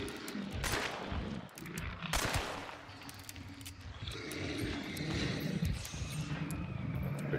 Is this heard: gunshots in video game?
yes